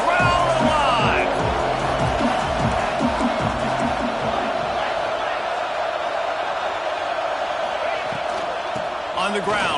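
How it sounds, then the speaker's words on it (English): A football stadium crowd roars on a third-down red zone play, a loud, sustained wall of cheering and whooping that holds steady throughout, with an announcer's voice talking over it. "Third down, red zone play. Crowd alive."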